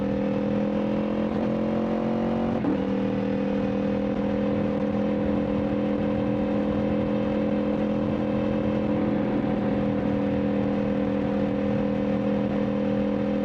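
A BMW M2 xDrive's engine pulls hard near 5,500 rpm, a steady loud drone with a brief shift in pitch early on before the tone settles and holds.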